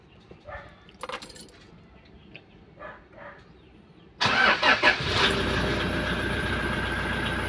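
Toyota Fortuner with a 2KD D4D diesel engine cranking and starting after a few quiet clicks and key jingles, catching abruptly with a loud clatter and settling into a steady, close diesel idle.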